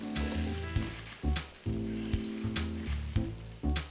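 Mushrooms sizzling in hot oil, a close, crackling fry punctuated by several sharp clatters as they are stirred and tossed in the pan, over a steady low hum.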